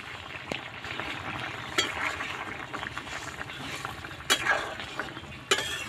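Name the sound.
fish curry with greens boiling in a pan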